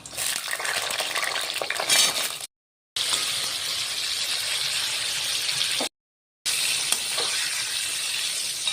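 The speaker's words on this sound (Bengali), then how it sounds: "দেখুন পটলগুলো লাল লাল হয়ে ভাজা হয়ে গেছে।" Pieces of pointed gourd (potol) fry in hot oil with a loud, continuous close-up sizzle, and the sound cuts out briefly twice.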